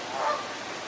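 Geese honking at a zoo pond among various ducks and a swan, a short burst of loud nasal calls peaking early then fading, with no talking.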